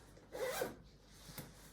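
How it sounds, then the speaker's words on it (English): A zipper closes on the fabric of a Nuna Demi Next stroller, one quiet, close rasping pull followed by a shorter faint zip. "then you can zip this closed."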